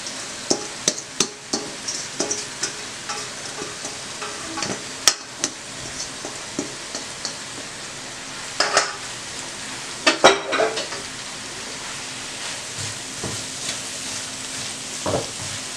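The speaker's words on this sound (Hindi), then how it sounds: "अब आपने पालक को फ्राई करना है, भून लेना है अच्छी तरह से" Spinach frying and being stirred in a pan for a spinach and egg curry, with steady sizzling broken by scattered scraping and clinking strikes from a utensil, fairly close and without talk.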